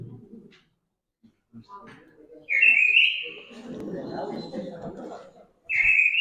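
A songbird common in city parks and gardens in Salamanca, Spain, sings in short bright whistled phrases, a loud burst near the middle and another at the end, with softer chirps and low murmuring between.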